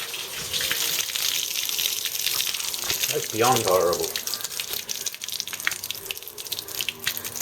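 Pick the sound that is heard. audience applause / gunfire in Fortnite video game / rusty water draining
rusty water draining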